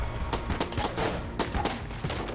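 Rapid revolver gunfire in the video game Enter the Gungeon, a dense run of punchy shots at an irregular quick rhythm, loud and close, with other game sounds mixed in.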